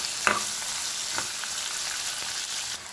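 Sliced onion sizzling in oil in a pan for okra chutney, a steady close frying hiss with a couple of faint stirring clicks.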